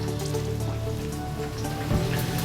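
Jalapeños and a quarter of white onion sauté in a pan, giving a steady, close, even hiss and crackle, like light rain, across the whole short stretch, with a slight bump near the end.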